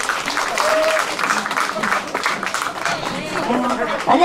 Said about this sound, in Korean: 우리 언니한테 박수 한번 주세요.